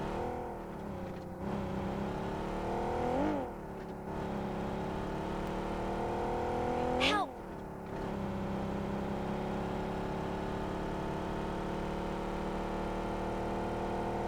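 Vehicle engine driving in PUBG Mobile, a steady loud hum that holds a sustained pitch, with a few brief pitch swoops like gear changes and one sharp rising whine, no voices.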